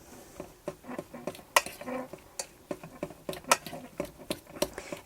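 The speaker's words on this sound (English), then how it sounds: "Just take your fork and just mash them up." Cooked potatoes mashed with a fork in a pan while cooking in a campervan, giving a steady run of sharp metallic scrapes and taps, close and fairly quiet, with no talking.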